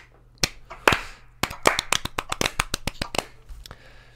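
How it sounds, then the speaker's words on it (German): A small group claps for about three seconds, sharp uneven claps close by with a few scattered claps at the start and end. "Da kann man auch nochmal einen kleinen Applaus spenden."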